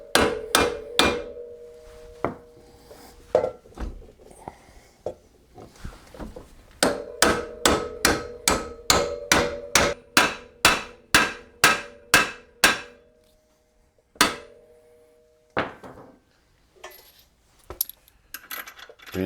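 A hammer taps on the suspension parts of a Pontiac GXP during a Megan Racing coilover install, making a series of sharp metallic strikes. Some come in quick rhythmic runs and others are spaced apart, close and loud, with pauses between.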